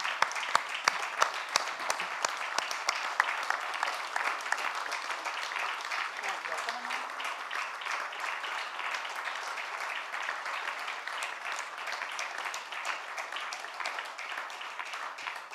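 Sustained audience applause at the TIOL Fiscal Heritage Award 2022 ceremony for Dr. Manmohan Singh, a dense wash of many hands clapping with sharper individual claps at the start, steady and moderately loud throughout.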